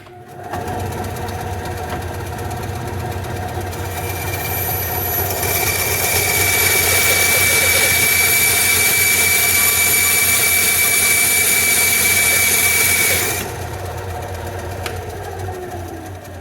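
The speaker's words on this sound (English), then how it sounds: "we're going to cut this top part off. So let's go back to the bandsaw for that." A bandsaw cuts the top off a railroad spike being made into a tomahawk, a steady loud whine with a high metallic ring that builds as the blade bites into the steel, then eases back to the motor running.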